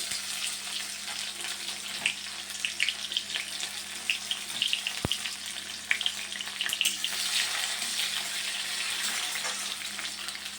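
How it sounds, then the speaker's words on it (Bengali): Onions frying in a pan for a tarka dal, a steady close crackling sizzle that runs throughout with small pops and no talk. "পেঁয়াজটা একটু লাল লাল করে ভেজে নেব।"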